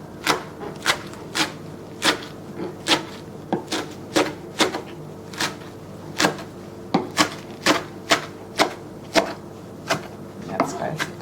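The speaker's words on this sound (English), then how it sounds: "Just cutting it crosswise so it's not too big." A knife chops crosswise through a washed ingredient on a cutting board, cutting it into tiny coarse strips, with about twenty crisp, evenly spaced knocks close by and no talking.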